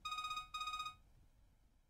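A mobile phone rings in the DS detective game Jinguji Saburo, two short bright electronic trill bursts in quick succession, clear and alone, then quiet.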